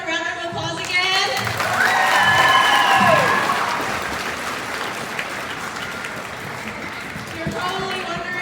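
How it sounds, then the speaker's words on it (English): An audience at a school district multicultural celebration in Unalaska claps and cheers loudly, a dense wash of applause with whoops that swells and then slowly fades. "Let's give everyone a round of applause again."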